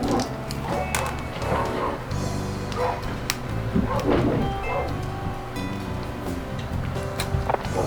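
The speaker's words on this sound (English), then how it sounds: "I don't know if you can hear my dogs freaking out there." Dogs on a rural property bark and yip excitedly in the background, repeated agitated bursts mixed with whimpers under a voice talking throughout.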